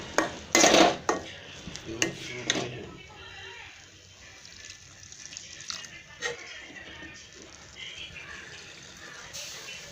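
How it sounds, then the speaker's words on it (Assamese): Food is stirred in a pan on a gas flame, beginning with a few loud metallic scrapes and clinks of the spoon against the pan, followed by a softer sizzle and quieter scraping, with a voice speaking intermittently. "গতিকে মই নন ষ্টপ এইটো লৰাব লাগিব"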